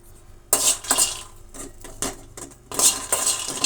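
Peanuts roasting in a black pan rattle and clink against the metal in short, loud bursts of stirring between quieter pauses, close up and without speech.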